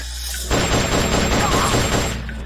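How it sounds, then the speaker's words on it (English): Dense, rapid gunfire in Metal Gear Solid: Peace Walker, a sustained burst of overlapping shots that kicks in suddenly and keeps going loud and close. "I heard gunfire!"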